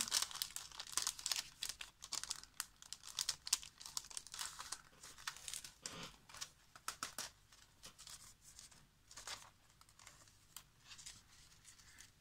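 A glued envelope of birthday mail is torn open by hand, with dense close paper crinkling and rustling bursts throughout, no talking.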